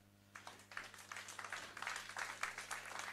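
Audience at a conference on a book applauding, a steady wash of clapping that builds and holds over a faint electrical hum.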